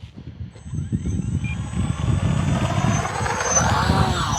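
The electric motor and propeller of an FMS P-51D V2 800mm model warbird spool up toward takeoff throttle, a rising whine building over a close, loud rushing roar.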